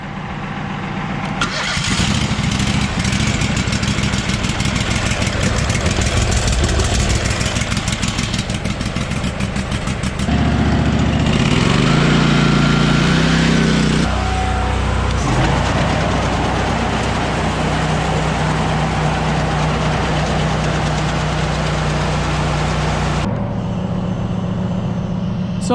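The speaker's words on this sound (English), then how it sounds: "Now we're gonna start the auger up and let it warm up for a little while." A grain auger's engine cranks, catches and settles into a loud, steady idle to warm up after sitting for a couple of days with the choke on, its rumbling note shifting partway before running evenly to the end.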